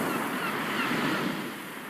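Ocean waves wash onto a beach in a steady, broad rushing hiss, close and fairly loud, with no voices.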